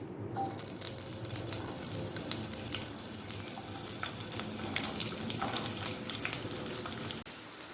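Sliced onions fry in a mix of ghee and oil, a steady close crackling sizzle that runs unbroken and moderately loud, with faint scraping now and then and no talk.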